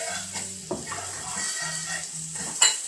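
A New York strip steak sears in a hot pan with a steady low sizzle, punctuated by a few sharp metallic clinks of a utensil against the cookware, with no talking.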